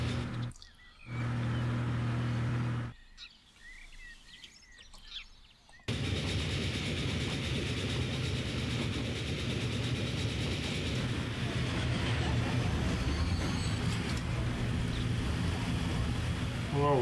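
A train in the Transport Fever game rolls along with a steady, dense rumble that starts abruptly after a few quiet, broken seconds and continues evenly to the end.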